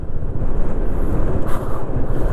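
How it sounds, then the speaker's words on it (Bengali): Strong monsoon storm wind blasting across a roadside in the Sundarbans during a ride, a loud, steady roaring rush that buffets the microphone throughout with no pauses. "প্রচুর জোরে ঝড় হচ্ছে।"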